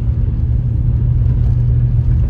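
A car drives through Tropical Storm Hilary in Big Bear, California, giving a loud, steady low road rumble and engine drone throughout, with no talk.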